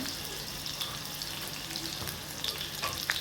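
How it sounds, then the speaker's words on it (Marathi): Green chilies and a pinch of asafoetida hit hot oil with garlic for moong dal, giving a close, continuous sizzle and crackle with a faint scrape of stirring. "आता आपण यात मिरची घालू यात थोडासा हिंग घालायचा आहे"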